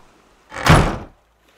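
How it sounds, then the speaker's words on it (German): A single door in a video game slides and shuts with a heavy thud, close and loud, followed by a faint knock. "Und die Tür zugemacht habe."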